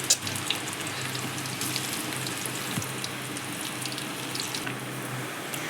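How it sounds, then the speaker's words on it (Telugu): Spinach pakodi frying in hot oil on a medium flame, a dense steady crackling sizzle heard up close and continuous throughout, with faint occasional clinks and no voices. "మీడియం ఫ్లేమ్లో పెట్టుకొని వేయించుకోవాలి"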